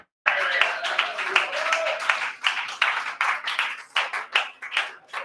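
Applause for a comedian at an open mic night: a small audience claps steadily and close for several seconds, the claps thinning into uneven bursts toward the end, with voices mixed in.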